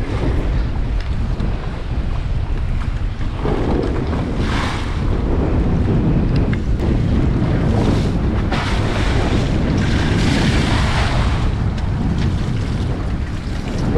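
Ocean waves slap and wash against a boat offshore during a kite fishing trip for sailfish, loud and continuous with heavy wind buffeting the microphone and no talking.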